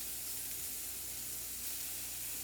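Oil sizzles in a hot pan while a vegan quesadilla with mushrooms cooks, a steady, soft, even hiss with no talking.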